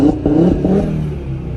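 A 2017 Audi TT RS Mk3 with its sport exhaust valve open revs hard, a close, loud blip that rises quickly and then settles into a rough, burbling idle.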